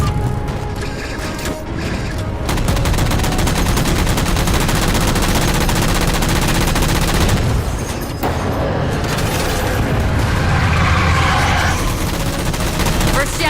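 Sustained, dense automatic gunfire in Halo 4 aimed at jammers, rapid rattling shots continuing almost without pause at high, steady loudness, with mechanical clatter and a swelling burst near the end.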